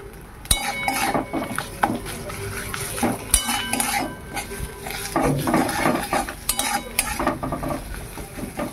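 Taro stems roasted, mashed and now fried in a pan with chilli, fried onion and salt, stirred hard with a metal utensil, giving repeated scraping clinks and clatters over a steady low sizzle, close and fairly loud.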